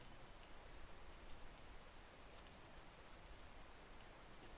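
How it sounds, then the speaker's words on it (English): Steady rain falling in a video game, a dense, even hiss of drops spread across the whole clip with no pauses and no voices over it. "Can it stop raining?"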